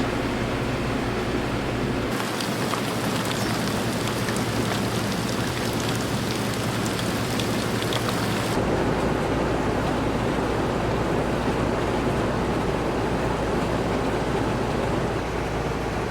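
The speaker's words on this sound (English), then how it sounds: "It's been raining hard now for almost 10 minutes" Heavy rain pours in a dense, continuous hiss, loud and steady throughout, like a downpour drumming on surfaces nearby.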